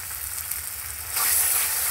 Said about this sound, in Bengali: আবারও নেড়ে চেড়ে একটু কষিয়ে নেব।